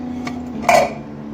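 Metal spoon clinks and scrapes in a cooking pot as coarsely ground masala is mixed into a tomato and onion mixture while making smoky yogurt chicken, one brief louder scrape standing out close and clear, with no talking.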